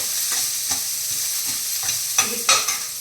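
Onion and three red chillies fry in a pan with a steady sizzle, broken by a few louder clinks and stirring scrapes near the end.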